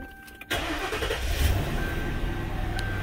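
A car engine cranks and catches at about half a second with the transmission in neutral, then settles into a steady, close idle rumble.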